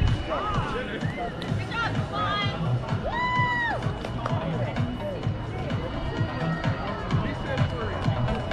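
Spectators at an outdoor 5k charity race cheer, whoop and clap for passing runners and walkers. A busy crowd hubbub comes with scattered shouts, and nearby voices talk throughout.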